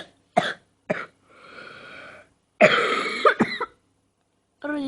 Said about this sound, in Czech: mám i rýmu, i kašel